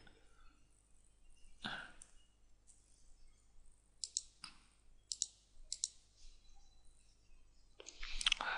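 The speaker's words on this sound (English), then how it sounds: "Now hit delete on the keyboard." Keyboard keys clicked while working in Photoshop CS6, a few sharp isolated taps spaced out, then a quicker cluster of clicks at the end, fairly close and quiet with no talking.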